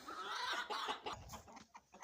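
A rooster clucks in quick, soft bursts, calling hens over to a cabbage head in a farmyard, the calls close and fairly quiet with brief pauses between them.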